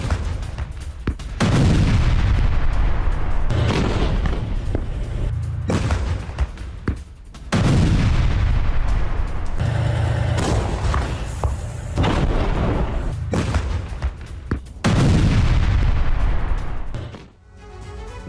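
Russian artillery fire around Avdiivka, heavy booming blasts in three long loud bursts with rumbling echoes, each decaying before the next strike, and a brief lull near the end.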